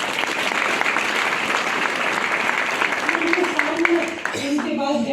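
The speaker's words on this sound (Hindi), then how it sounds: "अपने राजेश यादव जी सर के लिए जोरदार तालियां।" At a company gathering, an audience breaks into steady, vigorous applause for a leader, the clapping continuing throughout while a voice begins speaking toward the end.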